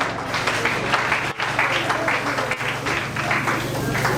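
A congregation claps together in acclamation of the Lord during the funeral of Maman Liliane Kabala Waniata, a dense, steady patter of many hands held at an even level throughout, with a low hum underneath.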